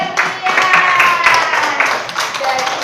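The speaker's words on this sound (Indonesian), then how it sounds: "Oke, tepuk tangan" A classroom audience claps for a student group presenter, bright uneven hand claps in bursts throughout, fairly close and loud, with some voices mixed in.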